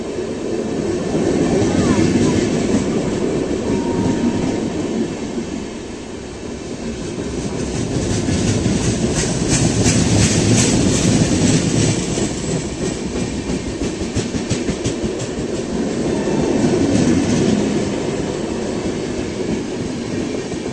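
Una Jan Shatabdi Express rolling on rails after leaving Narela station, a loud continuous rumble with rhythmic clickety-clack of wheels over joints, steady and close from on board, swelling and easing over about twenty seconds.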